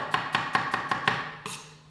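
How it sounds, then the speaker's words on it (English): A chef's knife chops an onion on a board with Chroma knives, giving six crisp, evenly spaced blade strikes close up, then a slightly harder final chop after a short pause. "turn it over, chop again, and then put it flat on the board this time, and chop sideways on"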